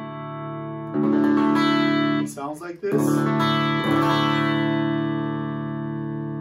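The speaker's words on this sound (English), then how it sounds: "it's an open d tuning" A sustained electric guitar chord in open D tuning rings out with a reverb-heavy, effected tone, broken briefly by a short spoken phrase before the chord is strummed again.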